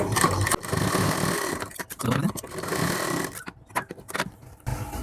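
A sewing machine stitches the fabric of a suit's puff sleeve in several bursts of rapid mechanical whirring, with short pauses between runs, close and fairly loud.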